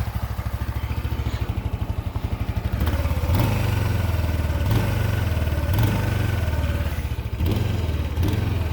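A motorcycle engine idles while warming up, with a steady close-up rhythmic putter, a quicker lighter idle at first, then a louder deeper chug with periodic pulses.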